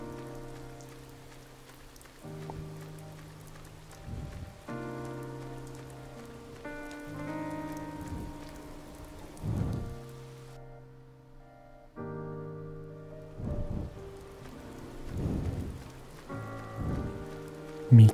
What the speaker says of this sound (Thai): เปียกไปหมดเลยตอนนี้ฝนตก